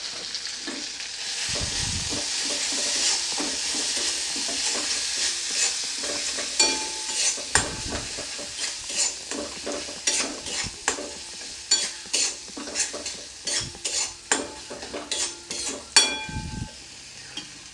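Turmeric and chili powder fry in a pan for an egg curry, a constant close sizzle under repeated scraping strokes of a spatula that grow sharper and more rhythmic toward the end, with no voices.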